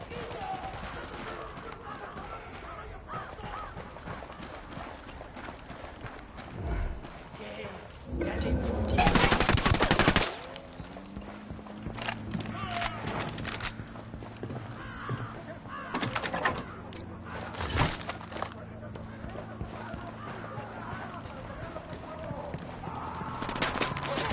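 Bursts of automatic gunfire ring out in a PS4 war game, with a loud sustained volley near the middle and scattered shots before and after, over steady background game noise and a voice.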